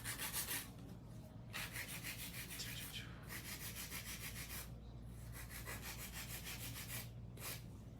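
Acrylic nails are filed with a 100 grit hand file in a steady, close rhythm of rasping back-and-forth strokes, quiet overall, with a few brief pauses between bursts.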